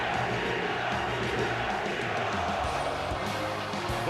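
A big stadium crowd leaves after the Eagles–Falcons divisional playoff game, a continuous loud din of many voices and movement with scattered shouts mixed in and no pause.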